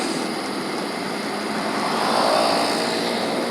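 Motorcycles pass along a city street in the Menteng area of Jakarta, a steady broadband engine and traffic rumble that swells slightly midway, with no talk.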